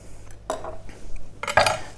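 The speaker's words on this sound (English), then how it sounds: "you roll all this up here using your big chef's knife, curve your fingers, and then you just chop it really, really nice and fine" A big chef's knife chops rolled parsley and coriander on a board, with a few quick close knocks and scraping taps in an uneven rhythm.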